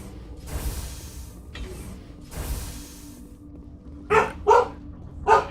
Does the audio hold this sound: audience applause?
no